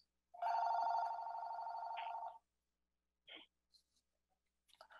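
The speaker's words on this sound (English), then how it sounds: "my phone is ringing" A telephone rings once in a long, loud, steady electronic trill lasting about two seconds, followed by a few faint, scattered small sounds and near silence.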